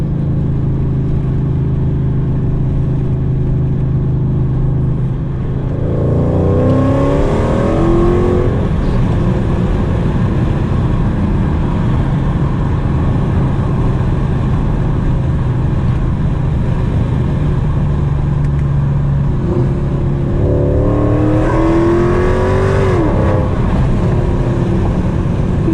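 A Mercedes E55 AMG with a bigger throttle body and long tube exhaust rumbles steadily, then rises in two loud accelerating runs with a climbing engine note, heard close from inside the car and without talk.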